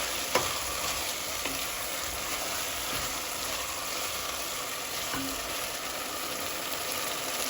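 Chicken leg gravy simmers in a pan while it is stirred, making a soft, continuous sizzle and bubbling with a few light scrapes of the spoon. The sound is quiet and close.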